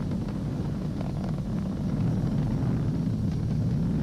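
A Falcon 9 rocket ascending past Mach 1, a continuous deep roaring rumble, steady and distant-sounding, with no voices over it.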